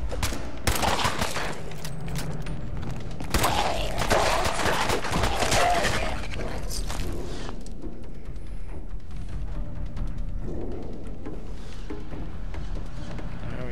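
Heavy automatic gunfire in the video game Fallout 4, dense overlapping bursts for the first seven seconds, then thinning into sporadic shots and thuds over lingering game ambience.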